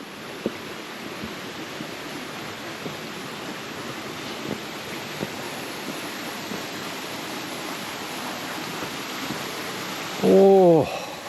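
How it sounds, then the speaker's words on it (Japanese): The Nanayo waterfall on Mount Mitake in Okutama in snowy winter pours into its plunge pool as a steady, close, hissing rush of falling water, with a brief voice near the end. "なんか結構立派な滝壺"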